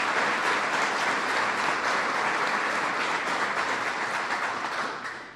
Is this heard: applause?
yes